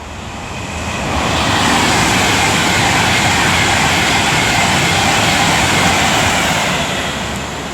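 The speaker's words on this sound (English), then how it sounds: "now approaching is going to be, I believe it's Blue Peter, 390-117 for Avanti West Coast" Avanti West Coast Class 390 unit 390-117 nears the platform at Milton Keynes Central on the West Coast Main Line, a steady broadband roar that swells within the first second and holds loud and close before easing slightly at the end.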